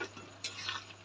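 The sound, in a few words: stirring chicken curry after adding garam masala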